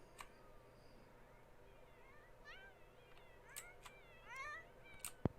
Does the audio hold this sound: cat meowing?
yes